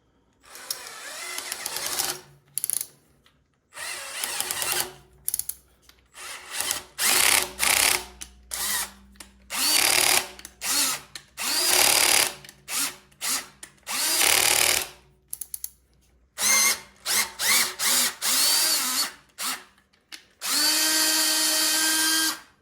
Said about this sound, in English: When that hole is complete, you come back with a tap.